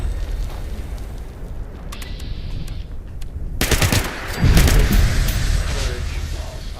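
Rifle gunfire in a first-person video game: a quiet stretch with faint tones, then rapid, loud bursts of automatic shots that crack out in quick succession and continue for several seconds.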